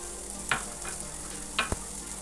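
Onion and carrot being sautéed in a pan give a constant close sizzle with two distinct scraping stirs of a spoon partway through.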